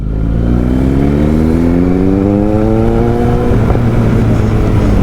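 Kawasaki Z900 motorcycle engine held at high revs during a long wheelie, loud and close, its pitch climbing steadily before a brief dip near the end, with no talk over it.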